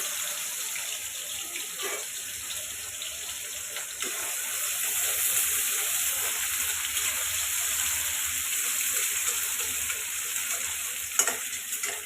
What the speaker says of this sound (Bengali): এখন আমি পেঁয়াজ দিয়ে দিচ্ছি। এই পেঁয়াজ দিয়ে দিলাম।